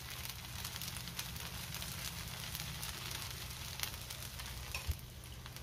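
Cucumber batter for a Maharashtrian dhirde pancake sizzling steadily on a hot iron tawa, a continuous close frying hiss with small crackles and pops, no one talking.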